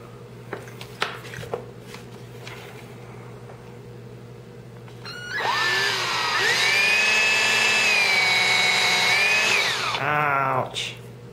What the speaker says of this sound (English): I'm gonna drill a hole right there for the pin